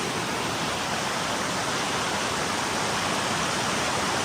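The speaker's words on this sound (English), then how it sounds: "we had to walk down the path and it turned into a waterfall" Water cascading down a mountain path on the Tour du Mont Blanc, a loud, close, unbroken hiss and rush of falling water with no pauses and no voices.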